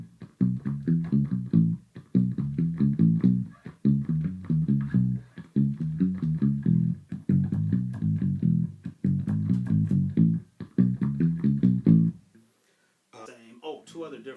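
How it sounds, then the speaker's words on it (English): Vintage Music Man bass guitar played palm-muted, short thumpy low notes in steady repeated groups with brief gaps, close and alone, ending with a moment of quiet and a faint noise. "just kind of having my palm against the strings to mute it"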